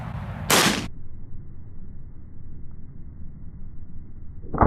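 A single loud shotgun blast from a child's first shotgun rings out outdoors, one sharp crack followed by a low rumble of background noise.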